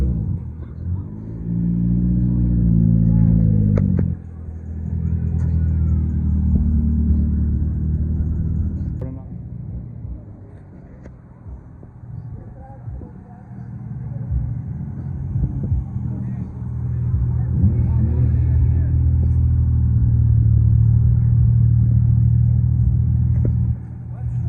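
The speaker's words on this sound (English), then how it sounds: "Cars keep coming in. They just keep rolling in." Low engine rumble of cars rolling in and idling nearby, with a vehicle revving briefly, while people talk over the steady motor noise.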